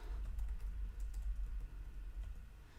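Fingers typing a group name on a computer keyboard, a quiet run of light, quick key clicks in a steady patter over a soft low room hum, with no talking.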